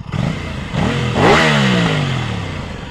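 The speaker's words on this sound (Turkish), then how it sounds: "Egzoz sesi böyle." An Aprilia Tuono 660 sport motorcycle's exhaust barks loud and close, the revs swinging up sharply then sliding back down through a throaty, rising-and-falling engine note with no voices.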